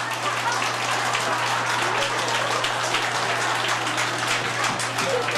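Wedding guests applauding at a traditional Korean wedding ceremony: a dense, steady wash of clapping from many hands, continuous and fairly loud throughout, with a low hum underneath.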